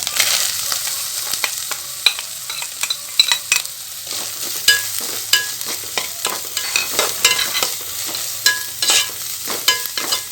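Onion, carrot and green chili being stir-fried in a pan for vermicelli upma, with repeated sharp clicks and scrapes of a spoon over a constant sizzle, close and fairly loud.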